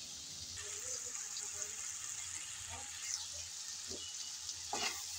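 Broccoli frying in a pan with little oil and spice gives a steady sizzle, with a few scrapes from stirring at intervals.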